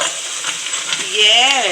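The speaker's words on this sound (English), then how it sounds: "You hear the sizzle?" Food sizzles loudly in a hot pan, a close continuous hiss and crackle that swells briefly near the end as a voice begins to speak over it.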